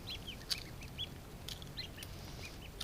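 Newly hatching ducklings peep from their eggs, a scatter of thin, high chirps repeating irregularly, some close and some softer, over a quiet background with no talk.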